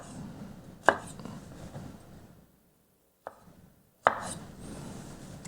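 A knife chops a bell pepper into 1-inch strips on a board, with a few sharp, distinct strikes close by separated by quiet pauses and low background room noise.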